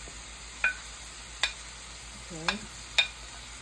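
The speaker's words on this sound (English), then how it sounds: "he's gonna take the codfish, and he's gonna saute that along with the seasoning" Codfish saltfish sautes with seasoning in a pan for Jamaican ackee and saltfish, a quiet steady sizzle broken by a few sharp clinks of a utensil, with a brief spoken word.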